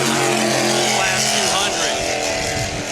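Class 200 racing powerboats roar past during a world championship race at Key West, their engines a loud, sustained drone under a commentator's talk.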